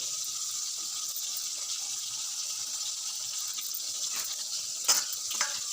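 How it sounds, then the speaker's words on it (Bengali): Steady hissing sizzle of bitter gourd frying in oil in a pan, with a couple of brief clinks near the end. "এখানে শুক্তোর জন্য উচ্ছেগুলো ভাজা চলছে"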